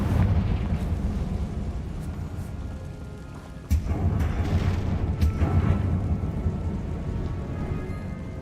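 Fiery Confringo spell blast in the Hogwarts Legacy video game, a sharp burst at mid-clip that rolls into a rumbling, crackling roar over a steady background wash, with no talk.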